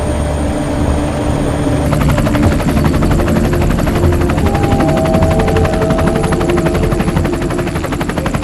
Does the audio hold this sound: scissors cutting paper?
no